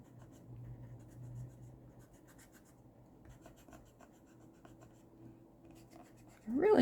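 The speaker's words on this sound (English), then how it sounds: "Erase these lines." An eraser rubs out pencil lines on paper in soft, scratchy back-and-forth strokes, close and fairly quiet, ending in a sudden louder rustle.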